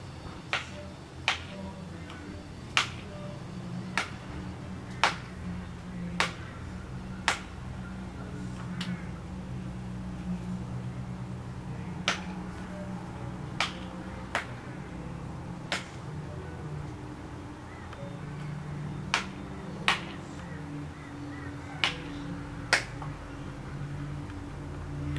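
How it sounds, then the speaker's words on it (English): A kookaburra cracks a mango seed with sharp, isolated knocks and snaps. The hits are spaced irregularly across the scene over a low outdoor background hum, with brief pauses between bursts. "It's a kookaburra. Breaking a mango seed."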